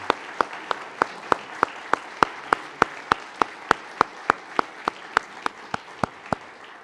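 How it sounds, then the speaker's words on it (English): Rhythmic, evenly spaced claps ring out in a steady beat at an evening political conversation event, each sharp clap distinct over a soft crowd murmur. "please ask you to join me in a round of applause for our wonderful guests tonight"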